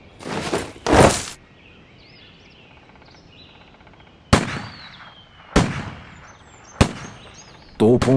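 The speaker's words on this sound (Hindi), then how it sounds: "वायसरॉय का स्वागत 21 तोपों की सलामी से किया गया।" A 21-gun cannon salute in a light and sound show on Ross Island, Andaman and Nicobar Islands: loud booms fire one after another at slow, irregular intervals, each blast echoing out before the next, with faint birds and voices between.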